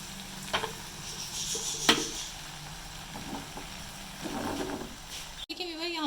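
Zucchini and chicken sizzle and fry in a pan, with a utensil stirring and scraping in repeated strokes. A loud clatter comes near the middle, and a brief voice speaks near the end.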